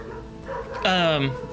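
Excited dogs barking and yipping from the floor above, a brief muffled burst of high, whiny barks heard under a voice talking.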